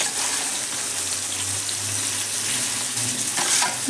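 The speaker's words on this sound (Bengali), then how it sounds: "এবার মাছটা আমি তেলের মধ্যে ছেড়ে দেবো।" Prawns frying in hot oil in an iron wok over a lowered gas flame, a continuous hissing sizzle with light bubbling that flares briefly near the end.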